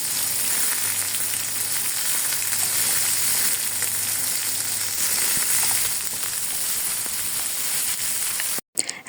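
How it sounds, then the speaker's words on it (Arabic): Chicken breasts fry in a little oil in a hot pan, giving a loud, steady, close-up sizzling hiss throughout that cuts off abruptly just before the end. "سخنت الطاسة وحطيت فيها شوية زيت صغيرين، وهنزل بصدور الدجاج اللي انا هشوحها كده، هقليها على الجنبين"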